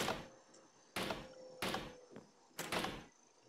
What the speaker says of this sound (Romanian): Tu vezi că deschid ușa.